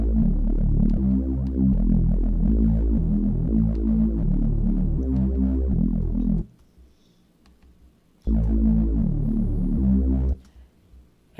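A Reese bass patch built in Xfer Serum and run through tube distortion, heard as a loud, thick, throbbing low drone that plays steady phrases, cuts out for about two seconds, then returns briefly.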